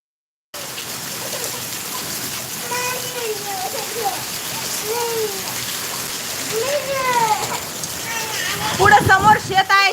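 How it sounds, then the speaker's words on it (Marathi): Steady, dense downpour with hail hisses throughout while people talk and children's voices rise louder toward the end. "आज पाऊस काय कमी होत नाही"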